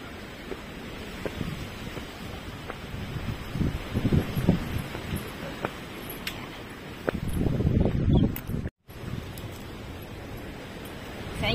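Gusts of wind buffet the microphone along a hillside hiking trail at High West peak, a steady rushing broadband roar that swells stronger around the middle and later part, with faint footsteps beneath and no talking.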